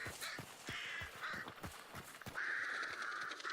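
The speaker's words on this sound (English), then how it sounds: "Let's get away from this crows." Crows caw repeatedly in the video game Hunt: Showdown, harsh calls overlapping in a ragged series over gritty ambient noise, a louder sustained caw near the end.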